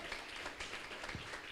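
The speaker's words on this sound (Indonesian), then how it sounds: "Beri tepuk tangan dulu untuk Tuhan kita" A church congregation claps together during a worship service, a dense continuous applause that fills the room.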